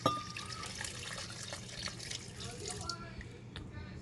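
Water runs and splashes steadily into a container nearby for blending coconut, a continuous pouring sound with faint background noise.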